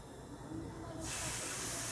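Rice flour batter for crispy chit ruti pitha flicked by hand onto a hot oiled pan, giving a sudden broad sizzle that swells halfway through and holds steady and loud to the end.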